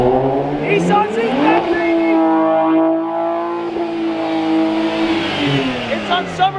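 A manual Nissan Z sports car on new Motegi wheels revs its engine up, holds, then lets it fall and climb again, a loud, close, smooth tone swelling and sinking.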